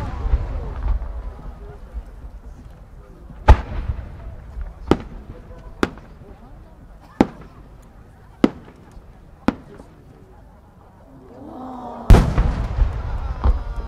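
Competition fireworks at the Omagari fireworks festival in Japan burst in a series of sharp, booming explosions spaced a second or so apart, ending in a louder cluster of crackling blasts, heard from a distance.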